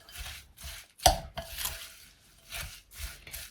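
Chopped almonds, hazelnuts and walnuts are stirred and tossed together in a bowl for chocolate bites, a steady scraping rustle broken by one sharp knock against the bowl.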